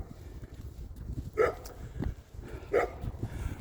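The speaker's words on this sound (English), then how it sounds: "He just sits there on the corner of his yard and barks." A dog sitting at the corner of its yard barks outside, two separate single barks more than a second apart, fairly faint and distant over low outdoor rumble.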